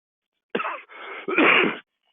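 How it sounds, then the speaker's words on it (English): One short, throaty clearing sound in two rough bursts, close and moderately loud, with silence on either side. "Let me clear my throat here."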